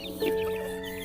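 Chickens kept in a backyard bonsai garden cluck faintly, with one brief, slightly louder cluck near the start and then a soft, steady background murmur.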